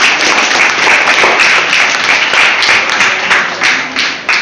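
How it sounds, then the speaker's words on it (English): Loud, close applause from an audience at a school English debate competition, a dense continuous wash of clapping with a few sharper claps standing out near the end. "So give a big clap for."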